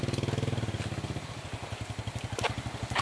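A motorcycle engine labouring along a rough river path, with a loud uneven throbbing beat that steadies into rapid regular pulses, close by, with some rattling over the top.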